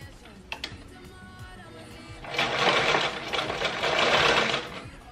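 A sewing machine runs a zigzag stitch over a wig weft in a steady, close, continuous whir lasting several seconds, preceded by a few light clicks.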